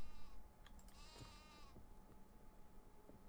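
Sheep bleat in the survival video game Niffelheim, a drawn-out wavering call near the start over a steady hum of game ambience, with quieter bleats and footsteps afterward.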